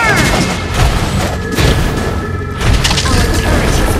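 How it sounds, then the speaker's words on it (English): Booming explosion from a destroyed turret in the Mobile Legends mobile game, loud dense blasts with crackling impacts filling the whole span, a voice faintly underneath. "Our turret has been destroyed."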